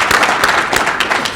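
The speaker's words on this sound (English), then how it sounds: "Give a great round of applause." Audience at a Rotary Club gathering applauding, a close, dense patter of many hands clapping steadily for a short burst with no voices over it.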